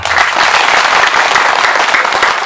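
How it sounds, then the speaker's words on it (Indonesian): Dense, steady applause from an audience at an Indonesian religious gathering, loud and continuous for the whole stretch, with no voice on top. "Tepuk tangan tuh"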